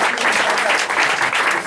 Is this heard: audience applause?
yes